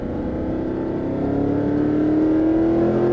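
A Mercedes-Benz SLS AMG on a Las Vegas race track, its engine droning loud and close and rising steadily in pitch as it accelerates out of a corner, with no one talking.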